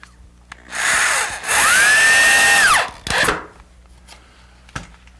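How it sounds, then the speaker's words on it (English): A power drill drives a screw into a wooden L-girder benchwork leg, whining loudly in two sustained bursts with a rising pitch, then a short final spin and a faint click, with no talking. "We'll drive the second screw."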